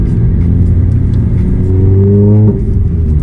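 A car engine idles loudly nearby, a steady low rumble with a slow rising whir as it revs, then the pitch drops sharply as it pulls away.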